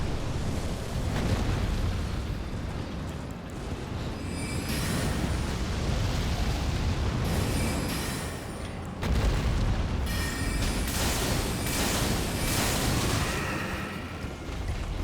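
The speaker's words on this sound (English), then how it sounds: "Mostly because of this, the Fire Breath." A dragon breathes fire in Elden Ring, producing a continuous loud, roaring, rushing blast that swells and surges across the whole stretch, dense and close.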